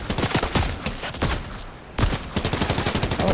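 Loud, close gunfire in a shooter video game comes as rapid cracking volleys, then a short lull, then another fast run of shots.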